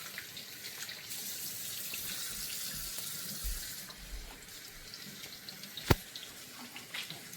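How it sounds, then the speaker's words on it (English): Steady hiss of tap water running into a sink, with faint splashing and a sharp clink near the end, no talking. "I'm going to wash my hands."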